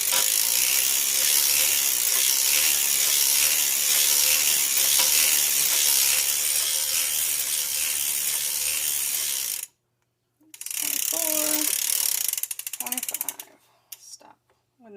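A circular sock knitting machine being cranked round steadily, a continuous close mechanical clicking and ratcheting that stops briefly, resumes, then breaks into scattered handling noises near the end.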